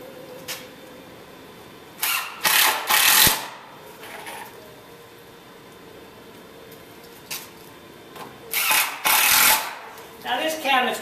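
A power drill drives Kreg pocket hole screws into a wooden cabinet, giving two clustered bursts of whirring, each a few short pulses, close and fairly loud against a quiet workshop background.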